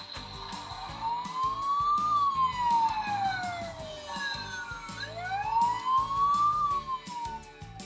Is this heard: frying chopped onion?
no